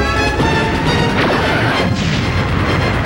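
Star Trek: The Next Generation photon torpedoes fire in a dense, booming burst of crashing, explosive noise that fills the space with rumbling low end and hissy bright wash, with no voices.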